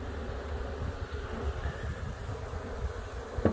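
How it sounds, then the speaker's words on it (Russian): A dense, steady buzzing of many bees, close by and continuous throughout, with no voices. "Видите, вот сколько пчелы."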